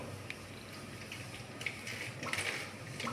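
Water poured into a container to dilute an onion-solution liquid plant fertilizer, a steady, soft, close splashing and trickling that continues throughout with no talking.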